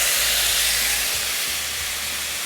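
Chopped tomatoes hiss loudly as they hit a hot pan, a dense, steady sizzle of steam and spatter close up with no talking.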